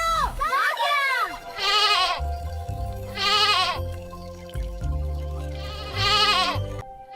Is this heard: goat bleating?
yes